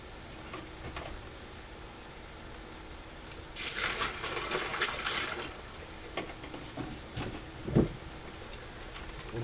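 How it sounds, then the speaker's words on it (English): Water is poured back into a catch can of a chilled water-cooling loop for an overclocked Socket 939 Opteron 175 PC, a soft few-second trickle rising out of quiet background hum, followed by faint clicks. "I'm going to take just a little bit of the water from this catch can, pour back into it"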